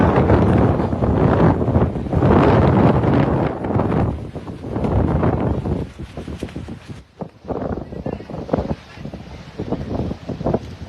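Strong wind roars across the microphone in Oroquieta City, with heavy gusty buffeting that surges loudly, eases briefly near the end, then keeps rushing in uneven bursts.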